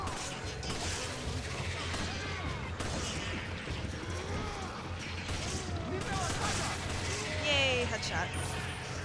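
Gunfire and melee impacts in the Resident Evil 5 village fight, with repeated shots, crashes and thuds mixed into busy game noise while a player talks over the action.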